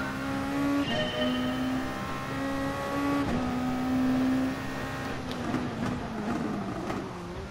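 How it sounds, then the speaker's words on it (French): Race cars in Gran Turismo Sport during a Japanese GT championship league race, engines whining and revving through gear changes with pitch dropping and climbing, several cars blending as they pass, sustained and fairly loud without talk. "Oh, j'adore les bruits des voitures"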